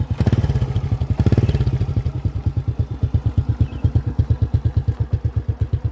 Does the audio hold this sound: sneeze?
no